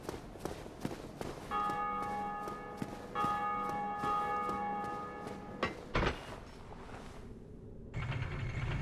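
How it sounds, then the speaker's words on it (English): A bell in a video game rings out in sustained metallic tones, twice in a row, over faint footsteps and mechanical clatter, ending in a couple of heavier thuds. "every time that bell rings, it's a player in the game doing it"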